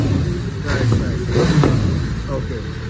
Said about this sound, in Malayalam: ഇത് കമ്പനിന്ന് കൊടുത്തോണ്ടായതുപോലെ കുറച്ചുകൂടെ സ്വീറ്റ് ആയിട്ടുള്ള ഒരു എക്സോസ്റ്റ് നോട്ട് ആണ്.